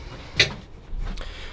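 A single sharp clack of a drawer shutting nearby inside a Knaus Live Traveller 650 DG motorhome, followed by a softer sliding rumble.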